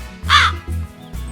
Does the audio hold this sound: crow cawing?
yes